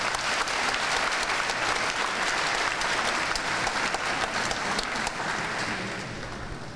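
Steady, dense applause from a church congregation for the neighbourhood committees, continuous and fairly loud throughout, fading slightly at the end.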